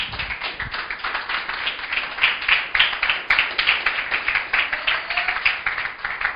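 A church congregation claps in a quick, rhythmic, pulsing pattern, with many hands striking close together in a lively sustained burst.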